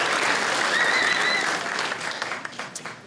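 Audience at a stand-up comedy show applauding in a dense, sustained burst of clapping, with a few cheers riding on top before it thins out and fades.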